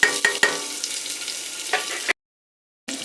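Onion frying in hot oil with cinnamon and cloves in a pressure cooker, a close steady sizzle with a few sharp stirring scrapes, briefly cut to silence near the end.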